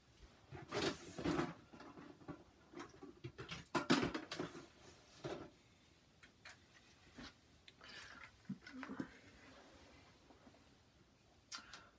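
A drawer is opened and rummaged through to pull out a Lego vehicle, giving a few close, soft thumps, knocks and light plastic clatters spread over about twelve quiet seconds with no talking.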